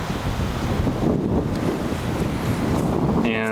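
Wind rushes and buffets the microphone in a steady, loud roar on an open disc golf course in Coppell, Texas, with no one speaking.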